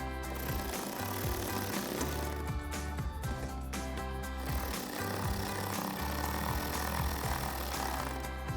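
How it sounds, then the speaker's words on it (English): A power driver with a 7mm socket whirs steadily and quite loudly, tightening fender flare bolts on a 2021-2023 Ford F-150, with a buzzing mechanical rattle that runs throughout. "Now I'll take a 7mm socket and tighten these 2 down."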